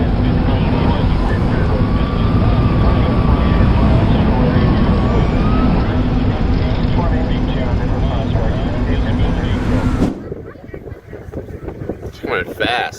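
A helicopter flies close to a tornado, a loud, steady roar of rotor and wind buffeting that cuts off abruptly near the end, leaving rougher, gusty noise and faint voices.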